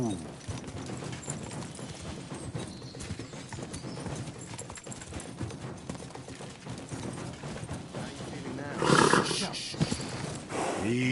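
Rapid rhythmic hoofbeats of a galloping horse in the video game Kingdom Come: Deliverance II run steadily throughout, with a louder burst of noise near the end and a voice briefly heard.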